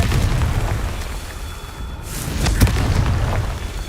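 A spell explosion booms in Hogwarts Legacy, a deep rumbling blast with a sharp burst near the end, loud and close, over the game's low background roar.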